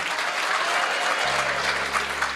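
A large audience at a Hindu religious katha gathering claps continuously and loudly, with a low steady hum joining partway through.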